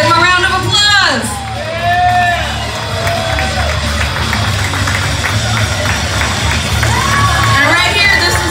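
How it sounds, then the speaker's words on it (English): A crowd at a DIY feminist punk rock fashion show cheers and lets out high whoops, loud and continuous, with a low rumbling background throughout. "Give them a round of applause."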